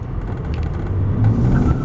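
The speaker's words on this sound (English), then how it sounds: "that was much less throttle to break the rear end loose" A 2005 Mercedes-Benz E320 CDI turbo diesel pulls away from a stop in first gear in sport mode, heard from inside as a loud, rising engine drone that builds steadily with no talking.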